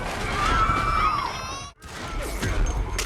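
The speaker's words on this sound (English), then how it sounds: "He beats the gang members to a pulp," A loud film fight scene with gang members smashed through furniture: sustained crashing impact noise, a sharp drop to near silence, then more rough impacts and clatter.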